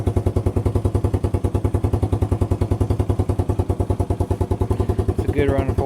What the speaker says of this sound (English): It's a good running four-wheeler.